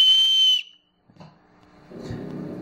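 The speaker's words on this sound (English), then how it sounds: "There's a whistle that's incorporated into one of the two housings that you are used to secure the bracelet, and it is very, very loud" A shrill, very loud blast from an emergency whistle built into the buckle housing of a survival paracord bracelet, one sustained tone lasting about half a second, then quiet and faint handling noise.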